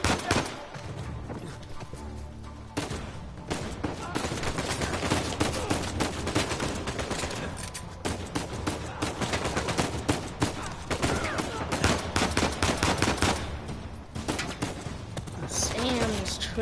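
Sustained gunfire in Uncharted 4 rattles through a long firefight against a private army, with bursts and single shots repeating steadily at moderate volume while someone talks over the action.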